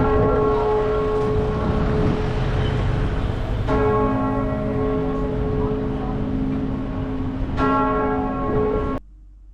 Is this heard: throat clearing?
no